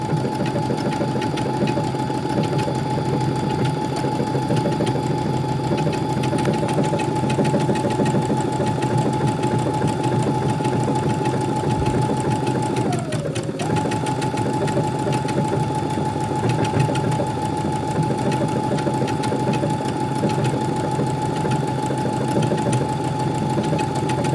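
A sewing machine runs steadily with its motor holding a constant hum, stitching fabric guided by hand at a beginner's lesson, with a brief pitch dip midway and no voices over it.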